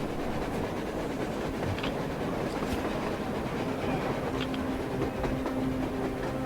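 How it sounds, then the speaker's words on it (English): A train passes on the surface in the video game Metro Exodus as a continuous loud rumble with scattered clanks and faint screeching tones, filling the whole stretch without speech. "A train! A damn train on the surface!"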